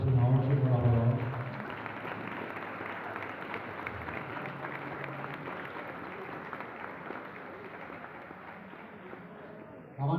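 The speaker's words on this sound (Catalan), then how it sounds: "demano un fort aplaudiment per a tots els patrocinadors i col·laboradors" A large crowd at a sponsors' dinner for a Valencian falla association applauds loudly. The clapping swells after a brief spoken request and holds as a dense, steady wash for about nine seconds.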